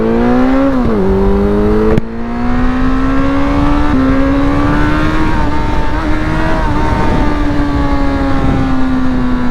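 A Renault Mégane engine revs hard as the car accelerates, its loud, strained tone climbing steadily, dropping briefly at a gear change, then rising again through a long pull under full throttle.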